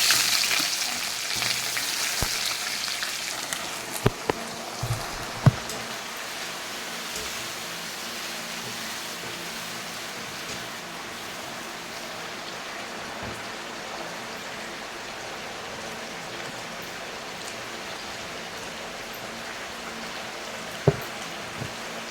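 Chopped onion goes into hot oil with cinnamon, cloves, cardamom and bay leaf for a fish head and young jackfruit dish. A brighter burst of sizzle at the start settles into a long, quiet, steady frying hiss with a few faint clicks.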